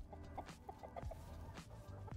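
In the dungeon-building video game Dungeons 4, chickens cluck in short, quiet, repeated bursts against a soft game background, with no voices.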